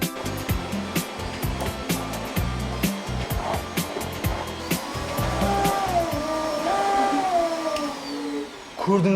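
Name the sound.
vacuum cleaner running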